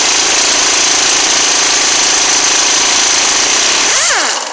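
A new Matco angle impact wrench hammers away continuously and very loudly right at the microphone. The harsh rattling drone holds steady, then winds down near the end.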